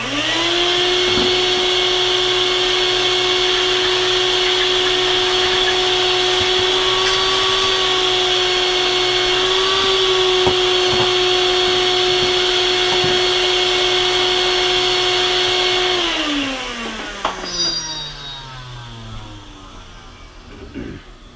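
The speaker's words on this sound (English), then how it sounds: "So I'm gonna use my shop vac, clean up some of the dust, and test for fit again." A shop vac sucks up sanding dust in a workshop, a loud, steady close-up whine with a bright high tone that holds for about sixteen seconds, then winds down in pitch as the motor coasts to a stop.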